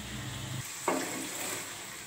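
Chicken sizzles in oil in a pan while being sautéed for chicken malai, with a steady frying hiss, one short scrape early on and a brief clatter partway through.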